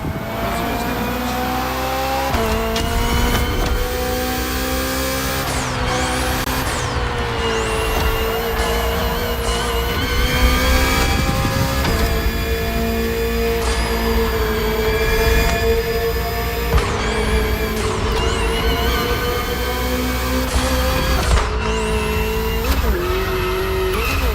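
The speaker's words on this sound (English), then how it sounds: "The BMW M Hybrid V8. What a beast." The BMW M Hybrid V8, a 2023 endurance race car built for events like Le Mans, roars continuously in the video game The Crew Motorfest, loud and close, with repeated upshifts, rising engine pitch and occasional tire squeal.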